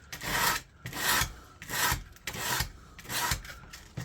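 Sandpaper rubbed over a wooden hand plane body during restoration, six even back-and-forth rasping strokes in a steady rhythm, close and clear with no talk.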